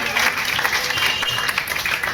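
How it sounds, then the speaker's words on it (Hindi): Applause from an audience at a political meeting in Moradabad, a steady dense wash of clapping filling the whole stretch, fairly loud and continuous, with a voice speaking over it. "भैया तालियां बजाते रहे ना, इसमें कंजूसी मत कीजिए।"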